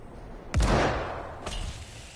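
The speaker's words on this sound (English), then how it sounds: "East side for the next explosions." Two loud explosions boom in Dead Island 2, the first heavy blast with a rushing tail, a second sharper one a second later, no voices.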